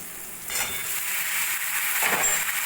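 Chopped bottle gourd being stirred into oil and fried spices with Kashmiri chilli powder for a Bengali lauki sabji: after a brief quiet start, a close, steady sizzle and stirring continue throughout, with no talking.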